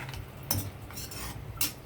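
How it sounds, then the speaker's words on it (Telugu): Curry with tamarind is stirred in a pan, a spoon scraping and clinking against the metal in a few quick strokes, close by, with faint sizzling underneath and no talk. "చింతపండు వేసిన తర్వాత ఇదంతా ఒకసారి ఇలా కలపండి."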